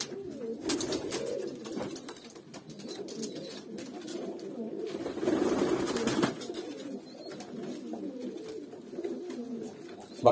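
Hünkari pigeons coo and scuffle nearby in a loft, a continuous low murmuring of overlapping coos with a louder burst of fighting in the middle and faint rustling throughout.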